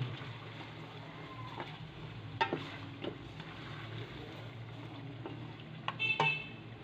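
Beef with ground spices, for nalli nihari, stirred in a pot over low heat: a soft steady sizzle with a low hum beneath and a few scraping knocks of the spoon, sharper near the end.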